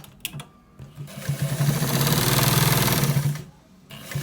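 A sewing machine stitching the left side pocket of a trouser, running in one loud, steady, rapid mechanical whir for about two seconds with a few handling clicks before and after.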